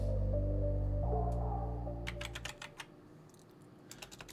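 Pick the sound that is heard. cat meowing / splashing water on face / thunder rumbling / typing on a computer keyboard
typing on a computer keyboard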